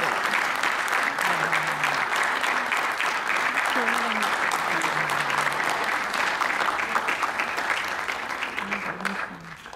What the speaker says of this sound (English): Please, a very big round of applause to all our contestants.